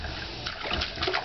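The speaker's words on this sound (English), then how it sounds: "Oh my, you're splashing! Splash, splash, splash!" A small child splashes water in a pail on a patio, giving irregular sloshing bursts and spatters over a steady watery background, close by.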